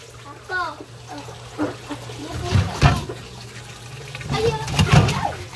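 Vegetables being rinsed under a running tap into a sink, with splashing that swells and fades as a person talks over it.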